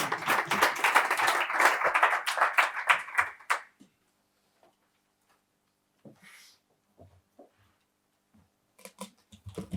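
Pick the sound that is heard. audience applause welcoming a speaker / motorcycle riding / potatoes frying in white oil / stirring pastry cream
audience applause welcoming a speaker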